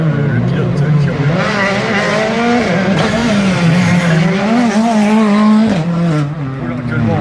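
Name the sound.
Hyundai i20 rally car racing on a special stage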